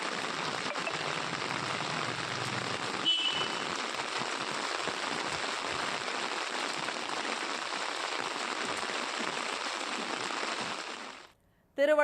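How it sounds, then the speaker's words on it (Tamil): Heavy rain with thunder and lightning, a dense, steady roaring hiss of downpour that holds almost unbroken for several seconds before cutting out abruptly. "இடி மின்னலுடன் மழை வெளுத்து வாங்கியது"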